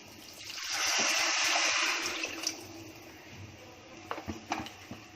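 Water gushes steadily into a pot of rice and dal with turmeric, a loud, close rushing pour lasting a couple of seconds, then tapering into scattered drips and light clinks.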